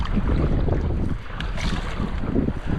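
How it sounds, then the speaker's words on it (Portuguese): Wind gusts and buffets the microphone while a small boat is paddled along the coast, with water sloshing in a constant broadband rush and no talking. "O vento está me empurrando um pouco para a costa"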